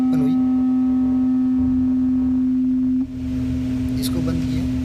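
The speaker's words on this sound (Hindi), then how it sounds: "पहले स्वरित्र को बजाया, ये एक ध्वनि तरंग उत्पन्न हुई" A struck tuning fork rings with a pure, steady tone that stays loud and constant, a brief knock at the strike and faint room noise around it, the hum shifting slightly near the end.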